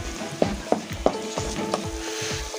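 Fenugreek powder and asafoetida stirred in hot oil in a pan for Kerala-style mango pickle, a soft steady sizzle with several light spoon scrapes and taps against the pan, close and alone.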